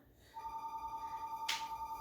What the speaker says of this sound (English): Of course the phone's going to ring while I'm doing